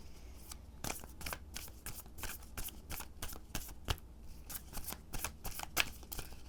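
A deck of tarot cards is riffled and shuffled over and over, crisp rapid flutters in quick bursts with brief pauses, close and fairly quiet.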